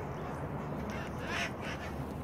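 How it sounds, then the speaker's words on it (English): Wild parrots call from backyard trees in San Francisco, harsh squawking cries rising in a short cluster over a steady outdoor background hiss. "there are parrots all in these trees"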